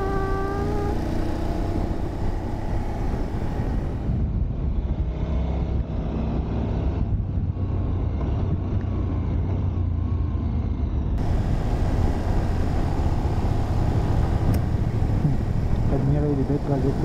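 A KTM 1290 Super Adventure S motorcycle accelerates on a mountain pass at the Col de la Madeleine, its engine droning loud and continuous amid wind roar, with a rider talking over it.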